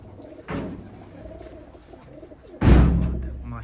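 Pigeons kept for flying, cooing in two brief low bursts near the start and again more loudly toward the end, with quiet background between.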